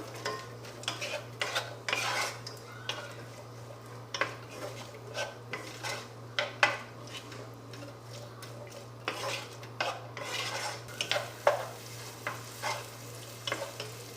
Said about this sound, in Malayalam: സവാളയുടെ നിറക്കൊന്ന് മാറി ഒരു ഗോൾഡൻ കളർ ആവുന്നത് വരെ നമുക്ക് ഈ സവാള നമുക്ക് വഴറ്റി കൊടുക്കാം